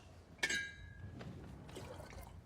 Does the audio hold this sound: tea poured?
yes